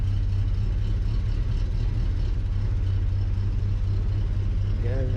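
A Willys Jeep engine idling steadily after a cold start, a loud, constant low rumble close by with no pauses.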